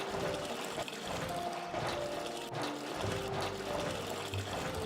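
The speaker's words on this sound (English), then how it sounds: "And then we go all out with farming water." Water flowing from a farming water block in the city-building game Block'hood, a continuous soft rushing and trickling wash with faint tonal chimes mixed in.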